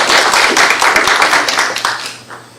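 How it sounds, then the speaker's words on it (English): A short burst of hand clapping from a crowd, brisk and fairly close, fading out toward the end. "Please give him a round of applause."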